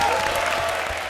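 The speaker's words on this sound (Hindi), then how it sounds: "जोरदार तालियां हमारे लिए" Studio audience on a comedy show clapping loudly, a dense continuous wash of applause filling the short stretch at an even level.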